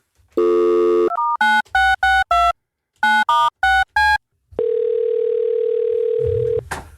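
Telephone call into a radio show's phone line: a loud steady dial tone sounds, broken by a run of short keypad beeps, then a long ringback-style tone before the line connects.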